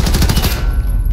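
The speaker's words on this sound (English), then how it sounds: "He's shooting through the wall." Rapid automatic gunfire fired through a wall in Call of Duty Modern Warfare, a loud close burst of about eight quick shots in the first half-second, then a ringing tail fading out.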